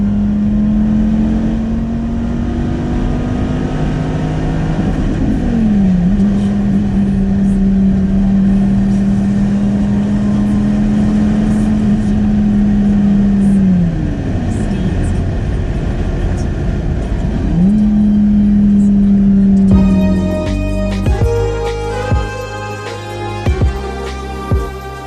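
A Dodge Viper's engine drones steadily while driving, a loud sustained tone that shifts in pitch with gear changes and acceleration, then gives way to a mix of other tonal noise near the end.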